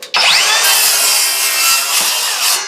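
A Kobalt 24-volt cordless sliding miter saw bites into a 2x4 with a sharp, loud whining rasp that runs steadily for a couple of seconds, close up and without voices.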